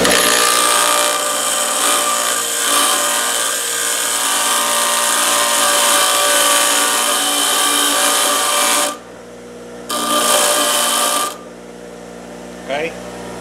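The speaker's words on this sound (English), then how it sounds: "get on this grinder, and I'm just going to hold it against there and grind a little bit of a taper on it" Loud, steady grinding of a taper onto a steel bolt on a power grinder, running continuously for several seconds, then stopping, briefly restarting, and winding down with a faint whir.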